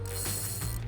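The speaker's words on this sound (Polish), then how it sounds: "Ale ładnie tutaj nam gra hamulec." Fishing reel drag clicking rapidly as a hooked fish pulls line while bombka float fishing, a steady close ratcheting buzz with no voices over it.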